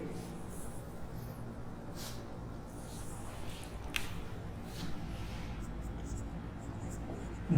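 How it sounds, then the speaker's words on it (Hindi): Faint scratching of a pen or pencil writing an answer by hand, heard as a few soft, scattered strokes over a quiet room hum. "तो इसका आंसर हम लिखेंगे"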